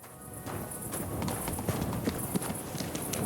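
Horse hooves clip-clop in Kingdom Come: Deliverance II, a steady walking rhythm of distinct close hoofbeats continuing throughout over faint ambient background.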